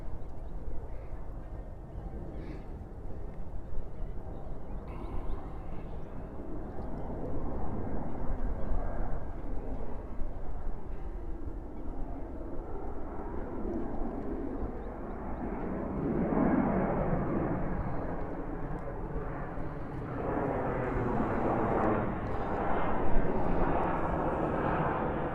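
Jet airliner taking off at JFK airport, heard from a distance as a broad, rising engine roar that swells and slowly fades over about twenty-five seconds, with no talk.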